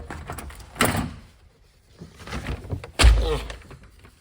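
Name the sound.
door opening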